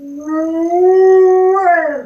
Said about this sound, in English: That's my dog howling in his sleep.